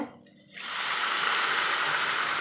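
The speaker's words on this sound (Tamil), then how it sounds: "சிறிதளவு தண்ணி தொளிச்சுக்கிறேங்க நான்" Water sprinkled into a cooking pan of frying eggplant hisses and sizzles steadily after a brief quiet start, a close spray with no talking.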